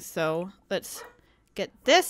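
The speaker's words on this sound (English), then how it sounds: "Sorry about the dog barking in the background." A dog barks in the background, several short yips and barks in quick bursts over about two seconds, while a person speaks nearby.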